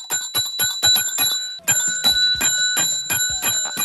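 Bell rung in quick repeated dings, a run of about six rapid strikes, a short pause, then another rapid burst, close and bright with nobody speaking.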